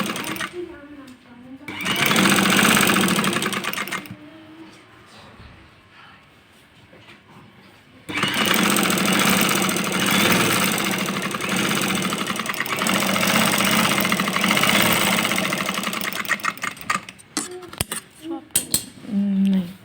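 A sewing machine runs in two long bursts of rapid mechanical stitching on trousers, with a quieter pause in between and someone talking over it.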